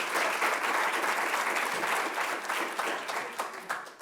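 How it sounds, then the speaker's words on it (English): Audience applause for a performing group at a TCU event, steady dense clapping that stays loud throughout and tapers slightly near the end. "How about another round of applause for"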